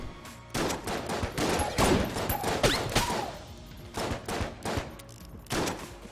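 Bursts of rapid gunfire from the game Enter the Gungeon come in clustered volleys with short gaps, sharp cracks and thuds at moderate loudness.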